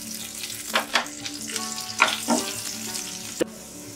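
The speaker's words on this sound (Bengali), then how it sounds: "এবার পেঁয়াজ কুচি দিয়ে হালকা ভেজে নেব।" Finely chopped onion frying lightly in hot oil over tempered spices, a continuous soft sizzle broken by several distinct stirring scrapes and taps, with a brief clink near the end.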